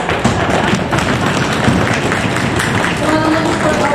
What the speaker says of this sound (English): Stamp your feet and clap your hands.